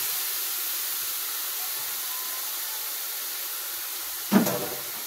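Mixed vegetables (potato, carrot and okra) sizzle in a frying pan with a steady, faint hiss, then a brief louder burst and clatter near the end.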